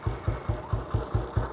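Royal Enfield Bullet motorcycle engine idling steadily, a regular low thumping beat of about four pulses per second, close and moderately loud with no voices.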